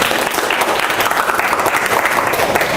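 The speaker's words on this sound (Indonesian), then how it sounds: "Kalau tidak ada, tepuk tangan kita." A room full of people claps steadily, a dense, sustained patter of applause at even loudness from start to finish.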